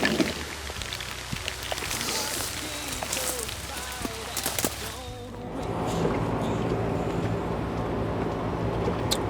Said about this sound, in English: Try to stay out of the rain for a little bit.